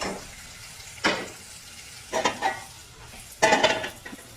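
Sautéed garlic and onion are scraped from a pan into a casserole pot for patola soup. Three close scraping sweeps with bursts of sizzle sound over a quiet kitchen background.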